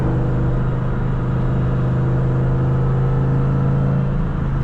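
A 500-horsepower 2003 Cobra drives along, its engine giving a loud, steady droning rumble from inside the car with no change in pace.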